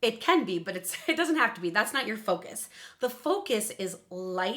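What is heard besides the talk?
No everyday noises stand out.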